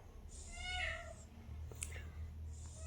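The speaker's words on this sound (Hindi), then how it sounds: "एक तो ये बिल्ली म्याऊं म्याऊं करती रहती है।" A cat gives a single clear meow, rising and then falling, close by in a quiet room, followed by faint soft rustling.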